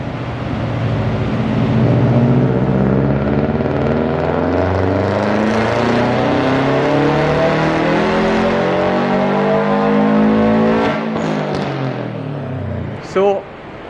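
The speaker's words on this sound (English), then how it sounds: "that's Jack's beautiful WRX, and the eagle-eye viewers will notice that some nice parts in this car. Torn meteor exhaust" Subaru WRX with an aftermarket Tomei exhaust revving up and holding high, a loud rising drone that swells and eases over about ten seconds before a brief blip at the end, close to the car.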